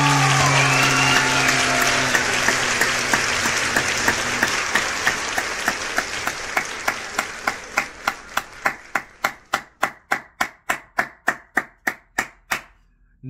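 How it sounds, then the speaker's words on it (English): Applause on an album track, a dense crowd clapping that thins out into single sharp, evenly spaced handclaps, loud and close, ending in a rhythmic series of isolated claps. "Another genuine clap there"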